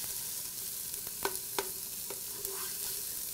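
Chopped onion frying in olive oil in a skillet, a steady soft sizzle with a few brief stirring scrapes and clicks, close and alone.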